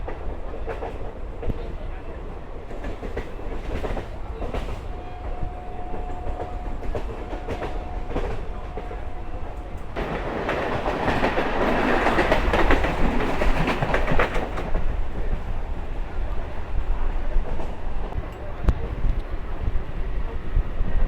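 Steady rumble and rhythmic wheel clatter inside a local passenger train on the Ranaghat–Shantipur–Krishnanagar–Amghata line, with wind noise swelling as it gathers speed; a faint tone is heard midway, and no one speaks.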